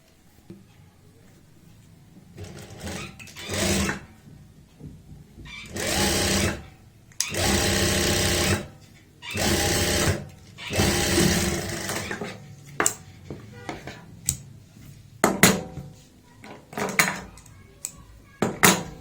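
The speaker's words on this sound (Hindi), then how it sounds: "यहाँ पे हम एक पैर चौड़ाई वाली लगा देंगे सिलाई" A sewing machine stitches a pocket seam on fabric in several sustained runs of whirring, separated by pauses filled with handling clicks and knocks, fairly close and steady.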